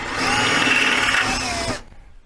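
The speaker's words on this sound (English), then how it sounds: "Take a big drill bit, deburr the holes." A power drill bores holes through metal light brackets with an 11/64 inch bit while fitting lights to a blasting cabinet, giving a steady, close, loud whine that runs for under two seconds and then cuts off.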